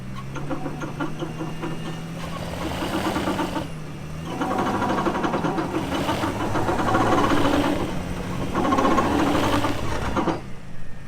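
A Ford Territory's wheels spin on a lifted vehicle with a limited-slip differential that fails to engage, giving a steady mechanical whirr that rises and falls in surges and runs continuously and loud.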